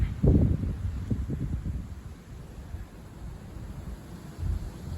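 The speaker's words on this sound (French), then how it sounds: "Il y a vraiment ces rafales turbulentes." Turbulent south-east wind gusting at night, a strong rumbling gust swelling near the start, then a steady low roar of blustery wind that surges again toward the end.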